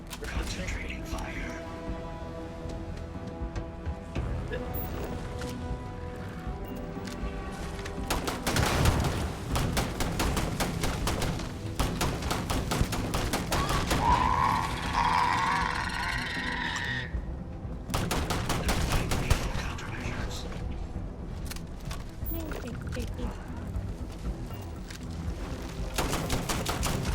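Sustained gunfire in the video game Starfield, dense rapid shots and bursts layered over game music and effects, with a person talking throughout.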